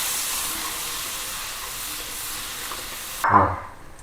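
Lemon juice sizzles and hisses steadily in a hot pan for lemon rice, a close, continuous frying crackle, ending with a brief clunk as the pan is handled and the sound drops away.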